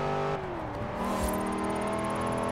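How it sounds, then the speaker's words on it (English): A Range Rover Sport SVR with a V8 engine in Forza Horizon 4 drones steadily and loudly, its pitch dipping briefly as if through a gear change, then climbing again as it accelerates. "it definitely has a V8 engine, and it sounds really nice"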